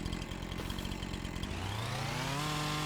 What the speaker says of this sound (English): we should just be able to grind this stump out with our chainsaw like that